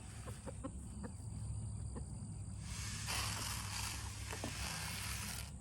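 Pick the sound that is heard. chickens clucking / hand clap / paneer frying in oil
chickens clucking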